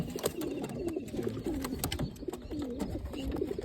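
Pigeons coo repeatedly up close, soft throaty rolling calls in a steady rhythm, with scattered clicks and rustling in the background.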